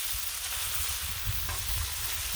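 Steady crackling sizzle of eggs frying on a hot griddle, continuous and close, with no voices.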